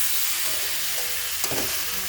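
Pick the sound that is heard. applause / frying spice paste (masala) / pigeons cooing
frying spice paste (masala)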